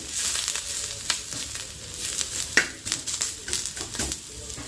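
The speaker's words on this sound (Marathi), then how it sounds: "इथे मी ना कांदा भाजते तव्यावर थोडासा चांगला ब्राऊन करून घेते" Onion roasting on a griddle pan, with a steady sizzle broken by repeated scraping and stirring strokes at close range.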